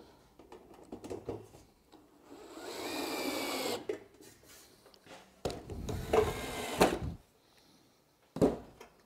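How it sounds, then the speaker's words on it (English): A power drill drives self-tapping screws into timber for a galvanised planter box, in loud bursts of motor whine broken by short pauses. No one speaks. "now I'm just going to screw it down into the timber"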